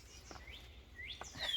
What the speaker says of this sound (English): Birds are going crazy out here.